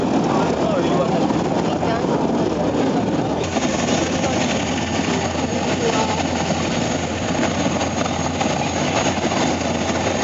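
Attack helicopters fly past at an RSAF air show, a loud, steady rotor chop and engine roar that continues throughout, with a commentator talking over it on the public address.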